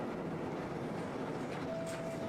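A subway train rumbles along the tracks in the Final Vendetta video game, a steady, loud rolling noise with a faint squeal near the end.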